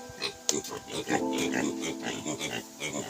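Native pigs on a farm grunt and oink close by in a quick, busy series of snorts, with a sharp squeal near the start.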